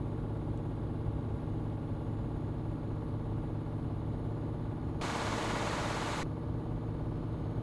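A Mercedes-Benz Actros truck engine in Euro Truck Simulator 2 drones steadily at high revs near the redline, a loud continuous low roar, with a burst of hiss partway through.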